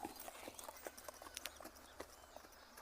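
A young horse trotting, its hooves giving a quick, steady clip-clop rhythm of light thuds at moderate distance, with no voices over it.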